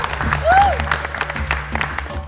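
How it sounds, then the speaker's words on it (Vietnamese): Brief applause from a studio audience during the finale of a baking competition show, scattered claps under a short whistle-like tone, moderately loud and tapering off. "Vỗ tay cho Phương Nguyên."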